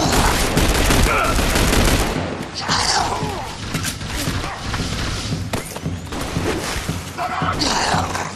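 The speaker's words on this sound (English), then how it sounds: "Under fire!" Heavy gunfire from The Bureau XCOM Declassified fills a combat firefight, with loud sustained volleys, thuds and impacts, and voices call out over the constant shooting.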